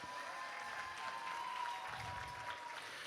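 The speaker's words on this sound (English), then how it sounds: "Come on out, give them a round of applause." Audience applause at a Walk with Pride fashion show, a steady even wash of clapping from a crowd, fairly quiet and distant, holding throughout with no talk over it.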